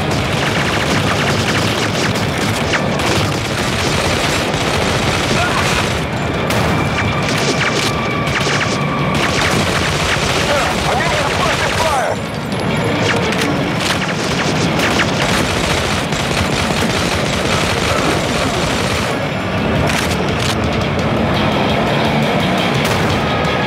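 Constant heavy gunfire and booming explosions as pillars are shot in the Modern Combat 3: Fallen Nation shooter game, loud and unbroken throughout with crashes and impacts layered on top.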